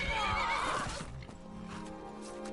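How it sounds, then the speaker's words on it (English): A horse in Skyrim lets out a loud, close whinny that trails off, followed by softer hoofbeats and a faint background hum. "I swear this is the most aggressive horse I've ever seen."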